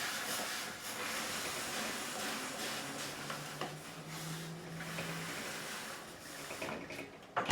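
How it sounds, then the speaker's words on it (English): Steam hissing steadily while wood is steamed to loosen it, a continuous broad rushing hiss at moderate distance with a few faint knocks, and no speech. "all we're going to do is we're going to just get some steam in there"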